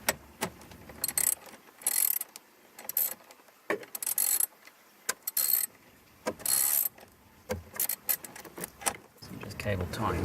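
A ratchet wrench loosens a bolt inside a car during a dashcam installation, giving several short bursts of close, quick clicking separated by pauses.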